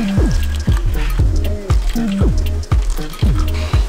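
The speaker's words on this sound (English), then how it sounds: "So to do this, we need to put water in the cups." Water poured into cups for a plant science experiment, a series of about eight short pours, each with a rising gurgle as the cup fills, close and clear with no talk.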